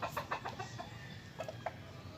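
Young stag roosters, gamecocks kept on a farm, give a few short clucks and calls over a steady low background murmur, fairly close but not loud.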